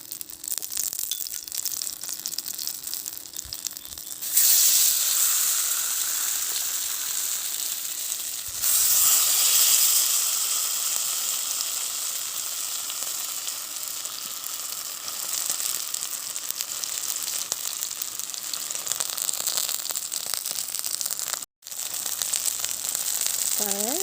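Fish frying in sesame oil over a primitive outdoor fire: a loud, steady, close sizzle that runs almost unbroken, with brighter surges near 4 and 9 seconds and a brief dropout shortly before the end.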